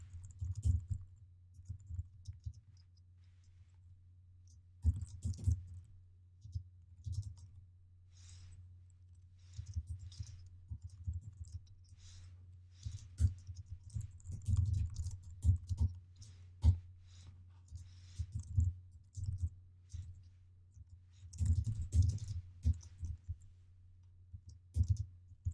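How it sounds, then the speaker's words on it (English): Computer keyboard typing while writing C# code: soft, quiet keystroke clicks in irregular bursts and flurries over a low steady hum, with no talking. "I'm going to type the following."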